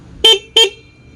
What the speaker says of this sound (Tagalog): yan yung stock horn.